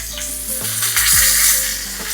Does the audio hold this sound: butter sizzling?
yes